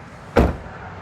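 A car trunk lid on a Clarity swings shut with a single solid thunk, close and brief, over a steady background hum of a busy street.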